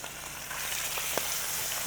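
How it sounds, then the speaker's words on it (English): Thick pork chops searing in a hot pan, with a loud, continuous sizzle and spatter close by and small pops scattered throughout. "That sound right there. That sizzle."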